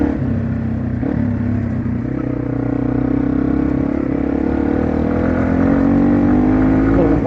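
A Yamaha TW200 motorcycle runs at wide open throttle off-road, its single-cylinder engine droning loud and close with a steady buzzing note that climbs gradually in pitch as it accelerates.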